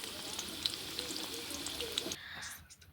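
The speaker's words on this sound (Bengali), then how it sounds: "এইভাবে আমরা এটাকে ফ্রাই করে নেব মিডিয়াম ফ্লেমে" Chicken cheese balls fry in hot oil over a medium gas flame, a steady close sizzle with crackling pops that drops away abruptly near the end, leaving faint bubbling.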